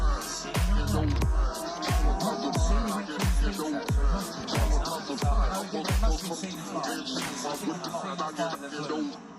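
Superstock racing motorcycles at the North West 200 road race scream past one after another in a rapid series of loud, close passes with falling engine pitch, while a commentator talks over them.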